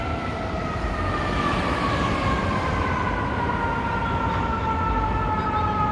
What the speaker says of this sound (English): There's a lot of sirens going off.